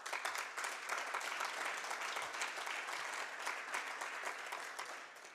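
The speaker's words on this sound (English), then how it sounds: "have him stand for just a short moment of applause" Steady applause from an event audience at opening remarks with retired generals, welcoming a consul general; dense, even clapping lasting the whole stretch, fading slightly at the end.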